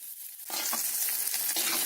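Shallots and curry leaves hit hot oil in a clay pot, breaking into a loud, steady sizzle with crackling bursts and occasional stirring scrapes.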